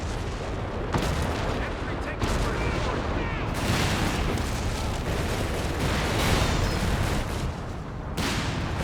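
Tank gunfire and artillery booms from the World War II strategy game Company of Heroes 3 rumble continuously under dense battle noise, with several sharper shot onsets, loud throughout.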